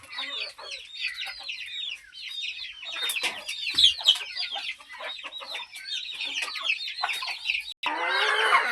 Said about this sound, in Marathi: प्युअर ओरिजिनल गावरान कोंबड्या आहेत